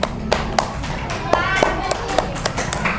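Hands clap near a plastic bag of sugar in a classroom, a series of sharp separate claps at an uneven pace, close by, with voices talking over them.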